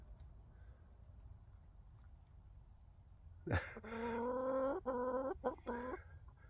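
Backyard chickens in a pen break a quiet stretch with loud, close clucking and squawking calls, a burst of repeated cries in a few rapid phrases after several seconds of low background hush.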